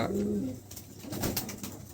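A pigeon coos in low, throaty murmurs against a steady noisy background, close by.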